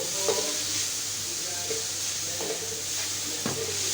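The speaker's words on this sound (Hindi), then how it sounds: "अब इसको हम फ्राई करते हैं।" Onion, capsicum and carrot fry in a pan with soy sauce and vinegar, a steady close hiss and sizzle with occasional light spatula scrapes and clinks.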